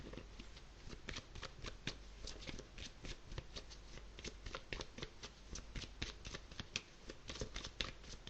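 Tarot de Marseille cards are shuffled steadily throughout, a dense run of quiet, close papery riffles and flicks with no speech over them.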